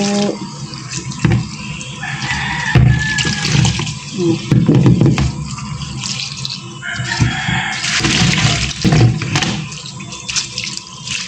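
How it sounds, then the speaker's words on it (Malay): Water runs steadily from a tap while something is washed under it in a home kitchen during cooking, a continuous splashing rush with uneven surges and clatter, close and fairly loud. "Kita basuh air dulu."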